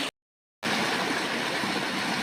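Steady rushing and babbling of a forest stream on the Sabarimala pilgrimage trail, close by and continuous, after a brief moment of silence at the start.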